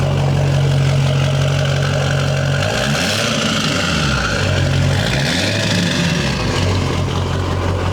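A Ford 6.0 Powerstroke diesel truck fitted with a non-VGT T4 turbo, running loud and close with a steady low idle hum, then two swelling revs that rise and fall in pitch.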